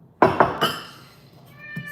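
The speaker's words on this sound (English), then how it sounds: "Why are you screaming at me, Mr. Cat" A cat in a kitchen letting out loud, insistent meows, two or three quick close cries in a row followed by a fainter trailing meow.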